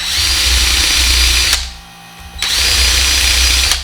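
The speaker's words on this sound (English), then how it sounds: "drill pilot holes for the screws of the hinge" Power drill boring pilot holes into a wooden cabinet door for hinge screws, two loud sustained bursts of whirring separated by a short pause, close up and without speech.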